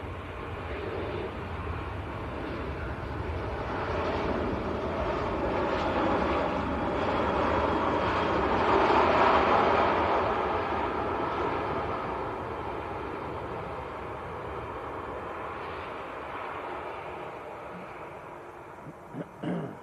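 An Airbus A320 arriving from Madrid passes on short final at Manchester Airport, its engine roar slowly building to a peak, then fading into a distant rumble, with no talk.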